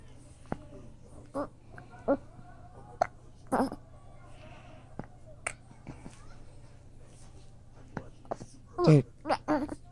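A child hiccuping several times at irregular intervals, small sharp catches close by with quiet pauses between, a couple of louder bursts near the end.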